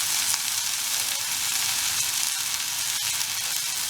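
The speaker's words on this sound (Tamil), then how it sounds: "எண்ணெயில் அப்படியே வதக்குவாங்க உருளைக்கிழங்கு ஃப்ரை மாதிரி" Pieces of elephant foot yam fry in hot oil, giving a steady, dense sizzle and crackle that carries on without a break, close and moderately loud.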